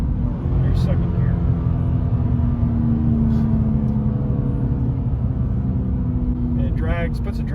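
A 2011 Cadillac CTS-V engine braking after a downshift into second gear, producing a loud, steady low engine drone and rumble that holds throughout, with faint tonal whine above it.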